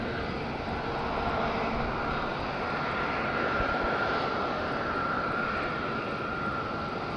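An airliner comes in to land at Madeira airport with a long float, a continuous moderately loud engine roar and wind-like rush that swells slightly midway, with no voices.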